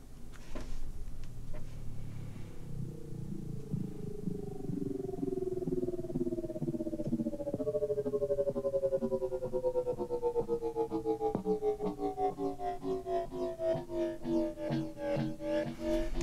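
A gritty, distorted synth growl slowly sweeps upward in pitch, pulsing faster and wobbling toward the end, loud and continuous with no voices.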